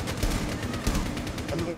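Rapid gunfire bursts in a first-person shooter video game, a dense string of loud close shots packed into under two seconds.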